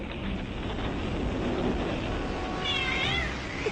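A cat meows a few times outdoors in a doorbell-camera-style AI-generated scene, the cries rising over steady background noise near the end.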